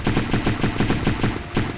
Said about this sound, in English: The cannon cuts down trees like thin branches.